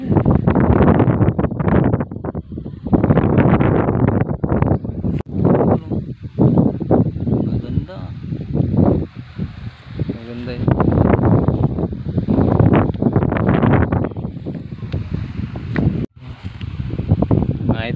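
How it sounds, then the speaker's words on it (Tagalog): Strong wind buffets across open countryside farmland, roaring in loud gusting waves that swell and drop over the whole stretch, with occasional voices mixed in beneath the blustering. "Hangin, ang lakas ng hangin ay."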